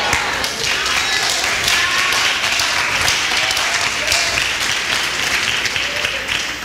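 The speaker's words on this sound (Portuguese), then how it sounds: "Vocês estão entendendo o que estão aplaudindo ou não?" A church congregation applauds in a sustained, dense wash of many hands clapping, loud and steady throughout with no voices rising above it.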